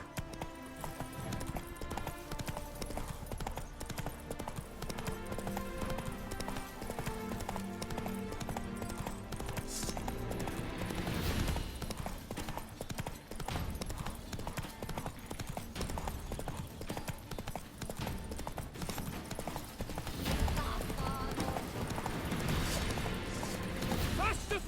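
A horse gallops in The Witcher 3 on a next-gen PS5 playthrough, its rapid hoofbeats pounding steadily throughout under game music and mechanical clatter, with a short whinny and some game dialogue.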